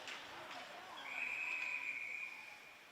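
A referee's whistle at an ice hockey game, a single sharp, sustained blast heard at some distance over rink noise and a voice talking.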